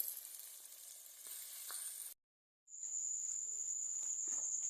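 Spices stirred and fried in a pan, giving a steady, close hiss of sizzling with a short silent break midway before the frying resumes with a thin high whine over it.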